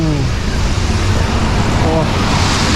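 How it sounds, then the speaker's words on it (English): A car passes on a wet main street, its tyres hissing in a loud, steady roar close by. A voice speaks over the road noise. "Oh no, a car. Sounded like a bus."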